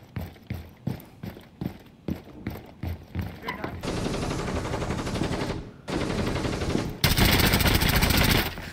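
Gunfire in Rainbow Six Siege, beginning as spaced single shots and short bursts, then becoming sustained loud automatic fire with a brief gap before a final heavier volley, up close, with some speech mixed in.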